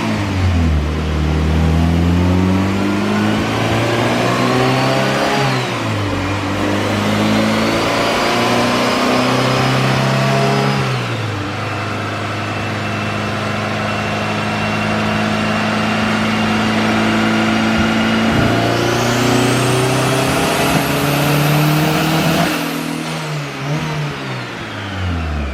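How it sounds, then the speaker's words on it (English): A turbocharged Honda Civic with a B18C1 engine on E85 fuel and +2 degrees of timing revs hard on a dyno. Loud, sustained pulls climb and fall in pitch, ending in a rising high whine, with no talking. "let's get into dynoing the Civic on the E85"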